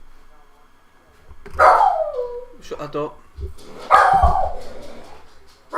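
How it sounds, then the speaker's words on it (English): Dogs in a house bark and howl excitedly in two loud bursts while a delivery arrives, with whimpers between them and a person talking nearby. "Dogs are mental at the delivery, man."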